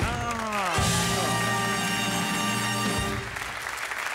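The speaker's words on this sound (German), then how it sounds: "Viel Applaus für" A television studio audience claps for a woman volunteer on a German comedy show, a loud steady wash of applause over sustained musical tones that fades slightly near the end.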